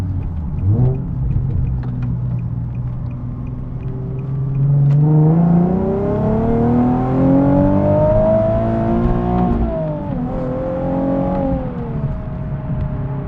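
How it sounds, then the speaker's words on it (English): A Nissan 370Z Nismo pulls hard through second gear, its engine note rising steadily and loudly from a low drone to a strained high rev before easing briefly and climbing again, heard from inside the car. "I'm gonna show you second gear pull right now and just see how it builds forever and how much fun it is."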